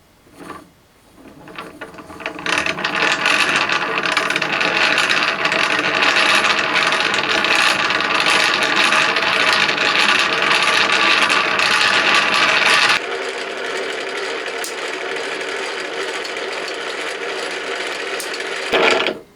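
Fine wire winding off a reel through small rollers onto an HMV No 11 gramophone pick-up coil, a steady dense mechanical whirring and ticking that runs continuously and drops to a quieter, thinner hum partway through.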